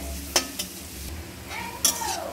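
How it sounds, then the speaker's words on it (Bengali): Spices with a pinch of oregano frying in a pan while a utensil stirs them, soft sizzling broken by a few sharp scrapes and clinks against the pan, heard up close. "দিয়ে এবার নেড়ে নেবো ভালোভাবে।"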